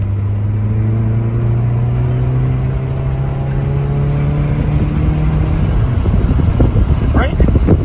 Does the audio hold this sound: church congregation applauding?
no